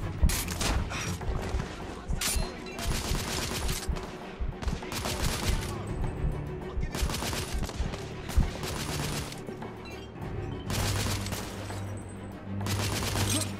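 Gunfire from enemies in the video game The Order 1886, with repeated bursts of shots and rattling fusillades cracking in clusters over a low rumbling background, some blasts close and sharp, others spaced between brief lulls.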